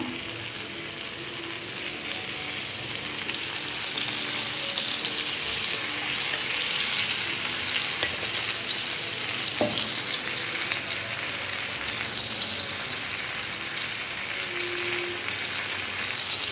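Chilapi fish fries in oil in a pan until crisp on one side. A steady, dense sizzle runs throughout, with occasional light clicks and clinks and no talk.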